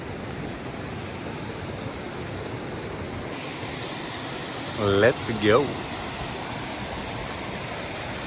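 At the base of a waterfall in the Norwegian mountains, water rushes in a steady, loud broadband roar throughout, with a brief voice speaking midway.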